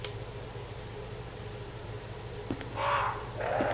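Crows caw in the survival-horror game Resident Evil Remake, two loud harsh bursts near the end over a low steady ambient hum, with no talk.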